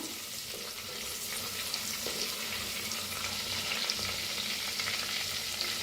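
Hing, cumin and chopped coriander roast lightly in a pan, giving a steady close sizzle and crackle with faint stirring scrapes throughout.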